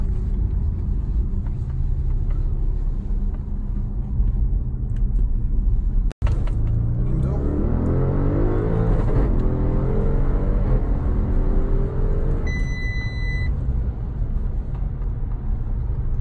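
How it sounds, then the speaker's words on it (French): An Audi RS7 rumbles at a low, steady idle until a single sharp exhaust crack rings out. The engine then revs up, its tone climbing steadily, close and loud, before settling back to a rumble. "c'est lâcher d'accélération, les pétarades"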